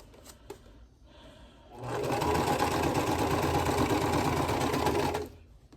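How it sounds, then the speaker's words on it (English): A sewing machine stitches a quilt block for a fall harvest design in one steady, close, loud run of about three and a half seconds, starting and stopping cleanly, with no talking. "Let's sew our peach unit together"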